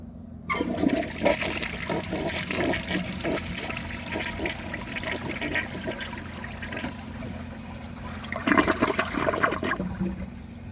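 A 1987 Kilgore Aladdin toilet with an unglazed trapway flushes during a performance test: a rushing swirl of water drains away, then trickles and refills, close and clear with no speech.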